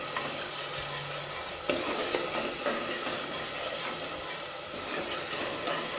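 Tomato rice paste sizzling in oil in a pan as the oil separates, a dense continuous close hiss with occasional stirring scrapes; no voices.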